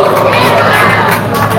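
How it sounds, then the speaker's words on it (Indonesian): An audience at an Islamic religious lecture bursts into loud, dense cheering and shouting with mixed voices, a continuous close roar of crowd noise. "Tepuk tangan, luar biasa ini"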